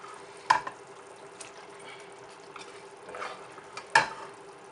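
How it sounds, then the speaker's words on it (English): Cooked black-eyed beans spooned into a simmering stew, giving two sharp knocks of a spoon against the pot with soft wet plops and stirring in between, close by and fairly quiet. "So I just spoon the black-eyed beans into the stew."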